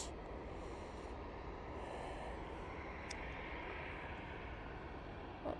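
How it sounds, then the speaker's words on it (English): A TUI Boeing 737-800 departing Manchester Airport, a faint, fairly distant jet rumble holding steady throughout, with a couple of brief clicks over it. "That TUI 737-800 is off to"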